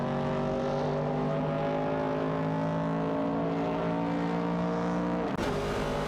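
Racing video game engines from a 1969 Chevrolet Camaro and a Dodge Dart fighting for position, a continuous loud hum of steady revs with a sudden shift near the end.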